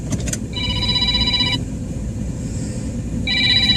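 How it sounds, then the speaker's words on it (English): A telephone rings for an incoming call, two electronic ring bursts separated by a pause, over a low steady rumble with a few clicks at the start. "Got a phone call coming in."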